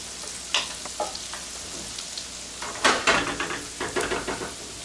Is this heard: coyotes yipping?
no